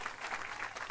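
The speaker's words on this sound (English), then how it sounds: "How about a round of applause for Jeff and Leo and the great work that they've done." Audience applause at a closing plenary of a clean and fair economy summit, a steady wash of clapping from a crowd filling the whole short moment, fairly distant and even.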